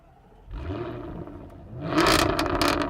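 Jaguar F-type coupé with a 550-horsepower engine and a loud sports exhaust revs up, a low rumble that swells sharply into a close, roaring burst with crackling edges near the end.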